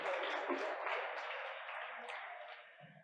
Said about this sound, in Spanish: Un aplauso para la mesa número 7